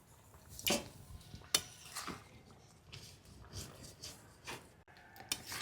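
Fried ground spice paste of black pepper and cumin being added to a koi fish curry with yam, heard as faint, sparse spoon clinks and scrapes against the pot in a quiet room.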